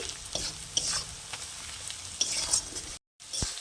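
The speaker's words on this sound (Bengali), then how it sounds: "এবার আমি একসাথে সব কিছু কষিয়ে নেব" Spices sautéing and being stirred together in a pan for tarka, soft sizzling under repeated scraping strokes of a spoon, with a brief silent gap near the end.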